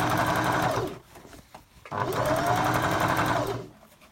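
A sewing machine stitches fabric for a drawstring bag in two close, steady whirring runs, separated by a short pause with faint clicks.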